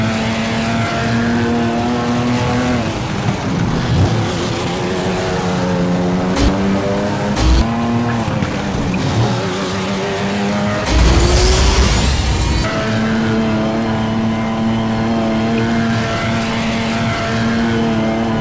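Race cars in the FlatOut 4 driving game, engines revving loudly with rising and falling gear-change tones, a sharp crash burst midway, then steady engine drone, close and continuous.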